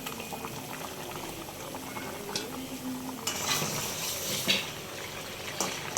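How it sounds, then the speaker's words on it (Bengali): A potato and hilsa fish curry bubbles at a rolling boil in a pot, a continuous close gurgling with bursts of louder bubbling and a few faint clinks, no voices. "এই যে আমার তরকারিটা ফুটে উঠেছে, এখন আমি যে মাছগুলো দিয়ে দিচ্ছি।"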